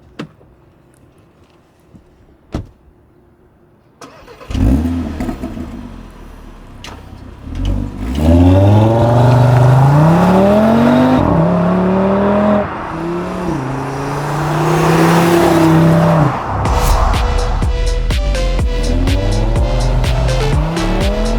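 An Audi RSQ3 Sportback's 2.5-liter five-cylinder engine cranks and fires up after a few clicks, then revs repeatedly in loud, rising and falling sweeps close by, with no talk.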